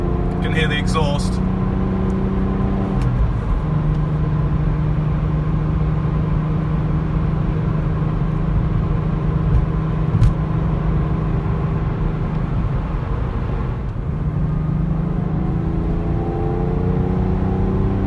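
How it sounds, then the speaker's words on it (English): Exhaust of a Porsche 911 (996) heard from inside the cabin while driving, a continuous loud engine drone with steady low harmonics and slight rises in pitch over the whole stretch. "You can hear the exhaust."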